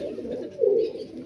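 Malwai pigeons coo softly close by, a short low throaty call rising briefly in the middle.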